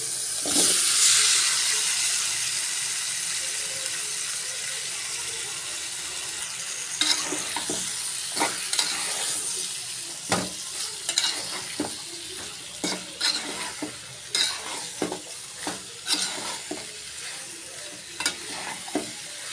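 Young hilsa fish curry being stir-fried in cooked spice paste in a pan, a steady close sizzle and hiss broken by regular scraping strokes of a spoon that grow more rhythmic and frequent toward the end.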